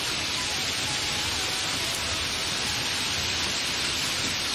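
Heavy rain pours steadily in a dense, even hiss with no breaks, loud and close throughout, with no voices heard.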